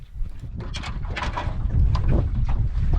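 Wind buffets the microphone in gusty, rumbling bursts on a lake, building louder over a few seconds, with no voices.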